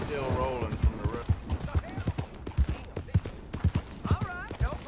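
Horse hooves clip-clop in a steady walking rhythm in Red Dead Redemption 2, close and clear, while people talk over the hoofbeats.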